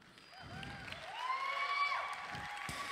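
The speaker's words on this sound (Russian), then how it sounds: "так что огромные аплодисменты" Faint cheering and clapping from the audience at a graduation ceremony, swelling briefly and mixed with some tonal sounds in the background.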